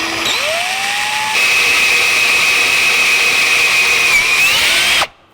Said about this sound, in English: I'm going to drill a hole well away from the edge so it won't do any damage